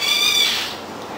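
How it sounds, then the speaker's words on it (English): A bird in an urban park gives a short, clear, high-pitched call that rises and fades within about half a second, fairly close, then quiet. "I wouldn't know the name of that bird."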